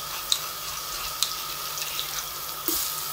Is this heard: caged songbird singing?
no